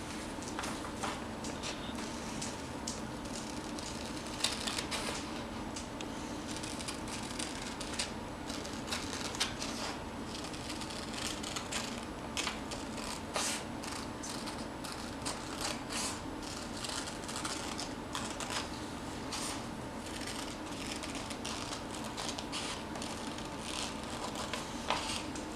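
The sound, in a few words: scissors cutting paper around a protractor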